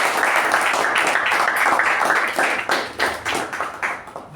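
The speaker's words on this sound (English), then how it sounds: "let's give a very, very good round of applause to both the evaluator" An audience at a Toastmasters club meeting gives a round of applause, a close, full burst of clapping that thins into scattered individual claps toward the end.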